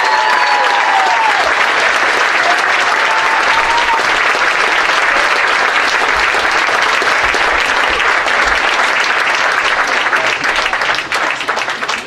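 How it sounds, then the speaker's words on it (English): A senior sports banquet audience claps for student athletes receiving awards, sustained loud, even applause filling the room, easing off at the end. "I'd like you to give them a round of applause"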